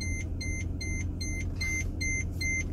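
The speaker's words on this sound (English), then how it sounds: "I don't like that beeping." A Mercedes car beeps a warning during a diagnostic scan with an Autel MaxiCom MK908P scanner, a rapid, regular series of short electronic tones over a steady low workshop hum.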